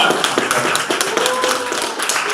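Crowd at an underground poetry battle claps for a poet, a loud, dense patter of many hands sustained throughout with no talking.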